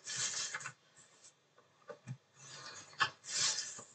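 Scoring a 5 1/16-inch square paper lid at 1 inch on all sides for a Stampin' Up square box: scratchy rasping strokes come in several separate bursts with short quiet gaps, close and moderately loud, no voices.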